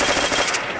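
Rapid machine gun fire in a zombie-mode shooter video game, a short loud burst of closely spaced shots.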